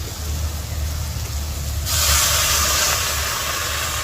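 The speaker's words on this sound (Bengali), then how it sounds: "এবার আমি জল ঢেলে দেবো।" Water poured into a hot pan of silver carp and cauliflower curry, a sudden loud hiss and sizzle that swells and stays steady over a low background rumble.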